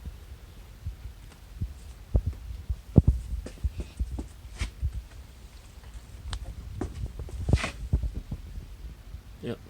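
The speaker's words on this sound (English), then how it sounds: "The cup's starting to push out now." A bench vise presses a universal joint cup out of a driveshaft, giving a series of sharp creaks, pops and knocks of straining metal at irregular intervals over a low background hum.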